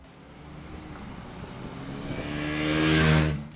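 A Triumph Thruxton 400 motorcycle engine accelerates, its note rising steadily in pitch and loudness to a strong peak near the end before easing slightly, heard close with no talking.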